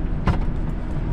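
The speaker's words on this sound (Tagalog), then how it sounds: "May pasalubong ng kotse." A car passes close by on a road in Tarlac, a short whoosh that peaks within the first half-second and then fades into steady road and engine rumble.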